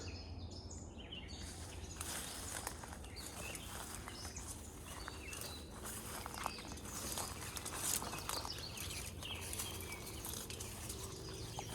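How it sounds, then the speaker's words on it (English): Outdoor backyard ambience by water, with fluttering wing flaps and scattered bird calls throughout, fairly steady and moderately distant, with a faint low rumble underneath. "So many birds."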